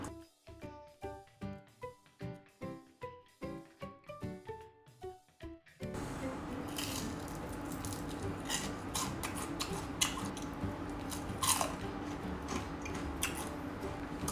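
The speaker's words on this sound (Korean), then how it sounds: "닭껍질 튀김부터 한번 먹어볼까요?" Crunchy KFC fried chicken skin crackles under rhythmic, close bites and chewing, about a dozen crisp crunches in a steady beat, then giving way to a constant background hiss.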